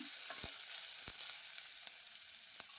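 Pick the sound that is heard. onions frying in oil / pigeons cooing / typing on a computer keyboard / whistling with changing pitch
onions frying in oil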